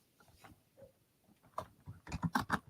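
Keys clatter on an old computer keyboard in quick irregular bursts, sparse at first, then a denser run of loud close clicks near the end, with no voices.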